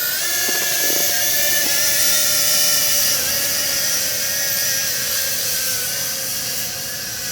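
A DBPOWER UDI U842 Predator quadcopter drone flying high at full throttle, its rotors giving a steady, loud, high-pitched whine and buzz that holds for the whole stretch with no talking.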